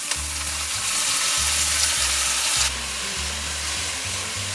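Chopped celery and onions sizzle loudly in a hot pan, a bright continuous frying hiss with low rhythmic scraping thumps of stirring, and the sizzle drops off partway through.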